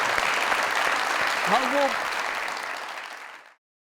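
An audience at a comedy talk show bursts into steady applause that carries on and gradually fades out, while someone speaks briefly over the clapping.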